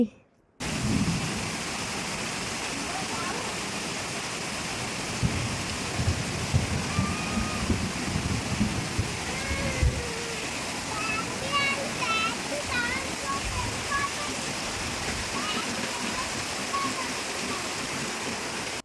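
Heavy floodwater rushes steadily after a sudden downpour, a continuous loud roar of churning, splashing water that fills the whole stretch, with faint voices now and then beneath it.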